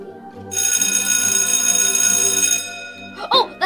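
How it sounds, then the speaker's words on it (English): A school bell rings loud and continuous for about two seconds, a bright sustained metallic tone, then cuts off as voices begin to speak. "Oh, that's the bell!"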